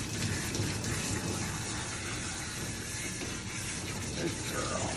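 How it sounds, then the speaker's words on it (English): Water runs steadily over a dog during a bath rinse, a constant hissing splash at moderate volume with no pauses. "So we'll start with the head. Rinse that down."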